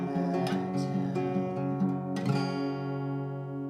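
Strummed acoustic guitar plays a country song's hook riff, rich ringing chords with a couple of brighter pick attacks, sustained and close with no voice.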